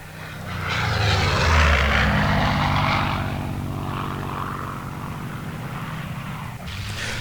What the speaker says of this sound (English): you can absolutely hear this engine roaring, and it sounds awesome